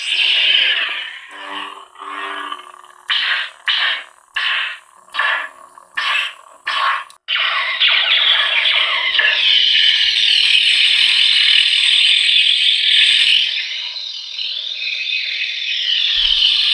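An Obi-Wan Kenobi lightsaber replica with a Goth Master chassis plays its effects, with a bright hum and a series of short rhythmic electronic pulses, then a long loud sustained ignition tone that fades out.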